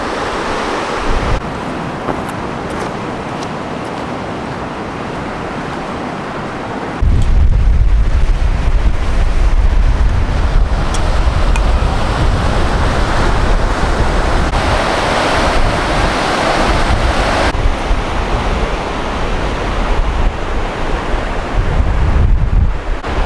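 A river in Northern California roars continuously, rushing water making a loud broadband wash with wind buffeting the microphone and no voices.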